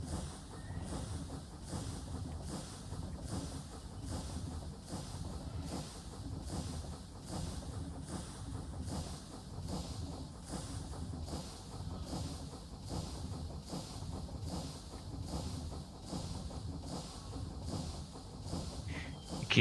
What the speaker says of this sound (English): I wanted to listen to the train